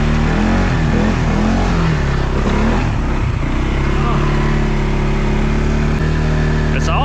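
A 2022 CFMOTO CFORCE 500 ATV engine drones loudly up close and climbs as the throttle opens, with some talking mixed in over the motor.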